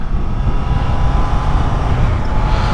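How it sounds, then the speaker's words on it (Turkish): A cold Honda CBR650F motorcycle engine idles and warms up, giving a steady, loud, close rumble with dense low-end noise and no talk. "Motor biraz ısınsın be"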